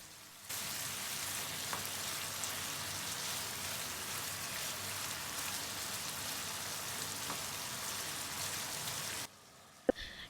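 Chicken with tomato and lemon juice cooking in a pan over medium heat, giving a steady, even sizzle that runs for most of the clip and ends in a brief clatter.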